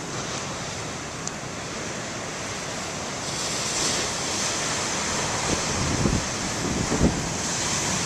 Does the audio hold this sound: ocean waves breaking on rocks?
yes